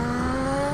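Lotus 98T race car engine in the Assetto Corsa video game, a loud sustained high-revving whine with pitch climbing steadily through the brief burst.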